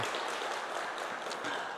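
A church congregation claps after a musical performance at a Korean Saturday dawn worship service; soft, fairly distant, continuous applause.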